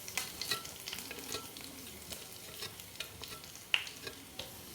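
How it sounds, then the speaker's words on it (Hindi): Cumin, nigella and white sesame seeds crackle in hot oil, giving a soft, close sizzle with light stirring scrapes and a few sharper pops. "तो तिल और कलौंजी को भी हम इसी तेल में डाल देंगे ताकि अच्छे से ये भी भुन जाएंगे।"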